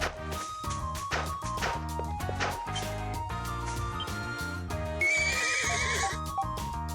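A horse whinnies loudly in a video game, Ys IV: Memories of Celceta, with clip-clop hoof sounds and layered tonal background sounds running throughout.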